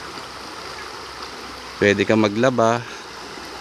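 Clean river water runs in a steady, continuous stream along a riverbank where people bathe and do laundry, a soft constant rush that sits under a short burst of nearby talk.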